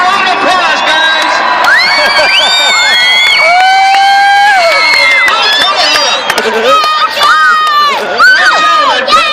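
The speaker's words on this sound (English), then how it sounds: "Let's give him a round of applause" A loud crowd at a Tuff Truck competition at the Yuma County Fairgrounds cheers, shouts and whoops continuously, with excited voices calling out over the din.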